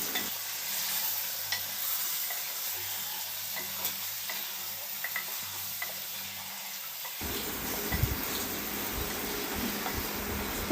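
Onions frying in oil for handi chicken, with a steady sizzle while being stirred. A low hum runs under the first seven seconds, then a louder, rougher frying sound with scraping stirs takes over until the end.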